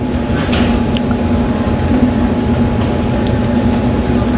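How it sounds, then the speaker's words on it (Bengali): A Riyadh Metro train pulls into a station, its steady low rumble of wheels and motors filling the platform at a constant, fairly loud level without a clear squeal or stop. "এখন আমাদের ট্রেন চলে আসছে, আমরা এখনই ট্রেনে উঠব"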